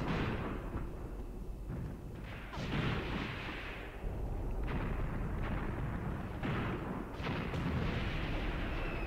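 Mortar shelling in the Graviteam Tactics war game, a run of heavy booming blasts and rumbling impacts that follow one another continuously with no pauses.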